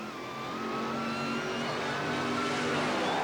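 Dragster and Corvette funny car at a 1977 drag racing Springnationals event, a loud sustained engine roar that builds over a few seconds as the cars accelerate, heard alone without talk.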